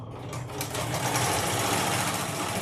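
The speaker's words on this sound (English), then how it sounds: "a nice quick stitch just to make sure everything is placed appropriately" An embroidery machine stitching a zipper bag in the hoop, its rapid, even mechanical whirr starting up and running loud and steady close by.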